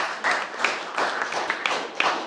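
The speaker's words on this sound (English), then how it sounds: "One more round of applause" Audience applause at a poetry festival, with a small crowd clapping in steady, slightly uneven bursts and individual sharp claps standing out, moderately close and without talking.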